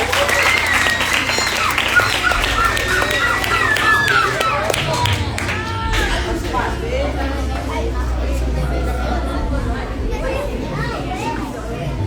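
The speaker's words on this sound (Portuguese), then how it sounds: "Dá uma salva de palmas para o Senhor" Children at a Sunday kids' church service clap and cheer together, a loud, continuous mix of applause and excited young voices and shouts running through the whole stretch.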